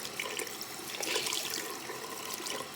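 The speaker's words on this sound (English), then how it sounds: "I'm really just going to let it run, I'm going to turn the water off." Tap water runs steadily onto a beauty sponge at a sink, a continuous close hissing splash with no talk over it.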